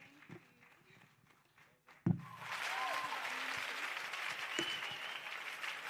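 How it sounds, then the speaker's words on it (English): At a fintech week conference, quiet room noise breaks into a sudden thump, then sustained audience applause of many hands that stays steady and moderately loud to the end. "you can make the applause louder"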